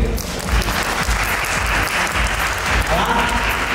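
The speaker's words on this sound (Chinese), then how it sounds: "表示他们通过，掌声鼓励" Fans applauding at a Christmas book signing event, a dense burst of clapping that continues steadily for a few seconds, with voices mixed in.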